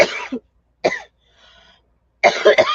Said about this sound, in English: I've been coughing all the day.